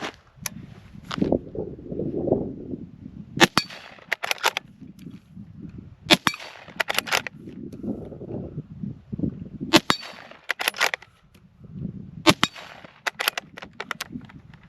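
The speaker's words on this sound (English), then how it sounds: "this is the first 5 shots today" A Ruger American .308 rifle fires at a steel target outdoors, producing several sharp, loud cracks spaced a second or more apart, with low rumbling between them.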